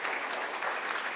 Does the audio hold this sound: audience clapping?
yes